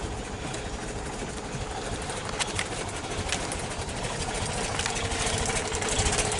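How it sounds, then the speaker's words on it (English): A 1977 Volkswagen Sunliner campervan engine idles low while still cold, a steady, fairly faint running drone with a few light ticks and knocks over it. "So otherwise it's a good running engine."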